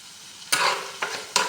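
Whole garlic cloves sizzle in a hot pan while being stirred, with three quick scraping stirs over a brief burst of frying.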